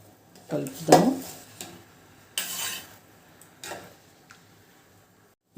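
Basmati rice being stirred in boiling water in a pot, a few clinks and scrapes of a spoon against the vessel with quiet pauses between.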